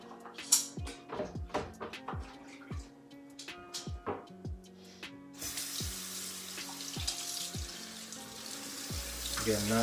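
Tap water runs into a kitchen or bathroom sink while golf clubs are rinsed, with knocks and clatter of the clubs in the basin over the first half, then a steadier, louder rush of flowing water.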